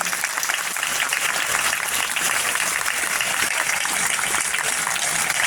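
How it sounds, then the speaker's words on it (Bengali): Applause from a school audience at a lab inauguration in Kamarpukur, a dense, steady clapping that fills the whole stretch without a break. "হাততালি দাও জোরে"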